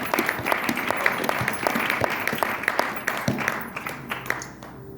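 A church congregation applauds together in a dense, steady wave of clapping that stays loud and close throughout, then thins slightly toward the end.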